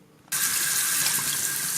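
A kitchen tap suddenly turns on and water runs steadily as tripe is washed under it, a close, continuous hiss of running water with no talking.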